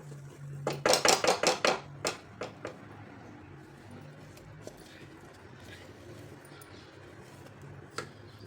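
Cashew paste is stirred in a nonstick kadhai: a quick run of loud utensil knocks against the pan, then sparse, faint scrapes and taps over a quiet background.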